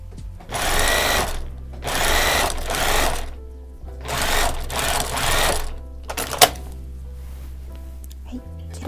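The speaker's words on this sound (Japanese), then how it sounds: "真ん中あたりに来たら1回返し縫いをして間8センチほど開けて縫い進めてください" A sewing machine stitches a fabric neck warmer in three long bursts of steady whirring with short pauses between, plus a brief click near the end and no talk over it.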